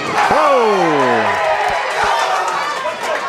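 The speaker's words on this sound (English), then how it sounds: "Junior Hurley firing this crowd up at St. Mary's Varsity Lanes with that very impressive strike on lane 9." Crowd cheers and shouts loudly after a strike on lane 9 at St. Mary's Varsity Lanes during a varsity high school bowling match, a rising yell at the start followed by sustained excited crowd noise.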